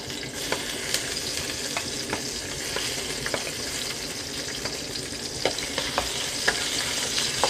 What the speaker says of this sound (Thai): น้ำมันร้อนกระเทียมลงไปค่ะ